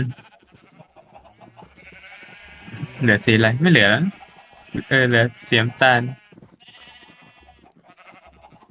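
Sheep in the video game Minecraft let out several loud, close bleats in two clusters, with people talking quietly in between and around them.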